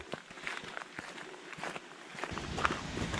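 Footsteps crunching along a quiet forest trail on the way up the Zugspitze, Germany's highest mountain, a steady walking rhythm of close, soft steps that gets busier and louder toward the end, over faint background hiss.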